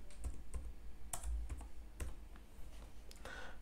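Close, crisp clicks of someone typing on a computer keyboard, in irregular quick bursts and isolated keystrokes, with no voice over them.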